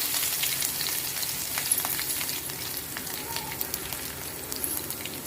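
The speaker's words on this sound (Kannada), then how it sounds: "ಇವಾಗ ಎಣ್ಣೆ ಬಿಸಿ ಆಗ್ತಾ ಇದೆ ಬೆಳ್ಳುಳ್ಳಿ ಹಾಕ್ತಾ ಇದ್ದೀನಿ" Garlic sizzling in hot oil in a pan, a dense crackling fizz that stays fairly steady and close, with a few faint scrapes and no clear talk.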